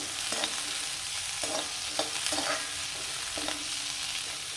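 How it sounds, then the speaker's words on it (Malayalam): Vegetables for a spicy tomato soup sauté in a pan with a soft continuous sizzle, broken by several stirring scrapes of a spoon against the pan, close and moderately quiet, no talking. "ഇതൊന്നും നമ്മളിങ്ങനെ വാട്ടിയെടുക്കാം നല്ലോണം വാടണ്ട പകുതി വാടിയാൽ മതി"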